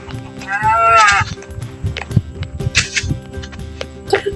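A sheep in Minecraft lets out one loud, wavering bleat near the start, followed by scattered game clicks and faint shuffling sounds over a low steady hum.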